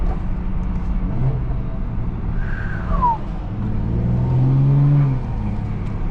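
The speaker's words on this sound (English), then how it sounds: "this turbo whistle will never ever get old" A tuned 500 WHP BMW B58 turbocharged car accelerating, steady close engine drone with a rising then falling turbo whistle and a brief high spool sweep, no talking.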